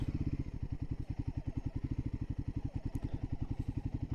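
A Royal Enfield Himalayan 450 motorcycle engine runs close by with a steady, rapid firing pulse as the throttle is opened and closed, the beat rising and falling without any talk.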